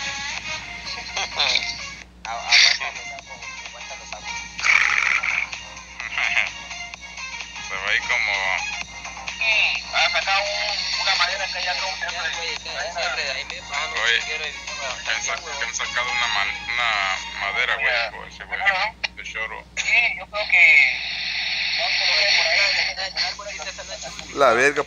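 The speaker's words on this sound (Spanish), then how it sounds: "le bajo volumen a la puta radio" A radio plays over a voice call, thin and band-limited as if heard through a phone line, running continuously under ongoing speech.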